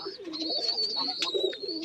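Pigeons at a Rajshahi loft during a sale, including giribaj and light biscuit birds, coo steadily and nearby in a low warble, with a thin high tone running over the top.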